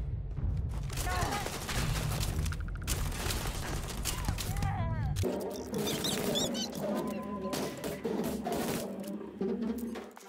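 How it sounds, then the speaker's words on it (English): A gun battle against foes in the video game Starfield: bursts of rapid gunfire mixed with game sound effects and music, loud and continuous, with a voice speaking over parts of it. "So cue another gun battle with some foes here."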